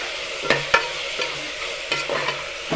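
Washed drumstick leaves sizzle in a hot pan while a spoon stirs them, giving a steady hiss broken by several sharp scraping clacks, close and clear, with no voices.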